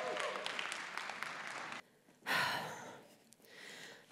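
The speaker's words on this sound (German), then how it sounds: "Macht einen großen Applaus für die zweite Finalistin am heutigen Abend" An indoor science slam audience claps and cheers for a finalist in a faint, broad wash of applause that breaks off briefly, then swells again.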